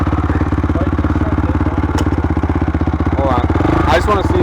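A 2006 Honda CRF 450 dirt bike engine runs close and loud with a rapid, even thumping idle pulse that grows rougher near the end, and voices are heard over it.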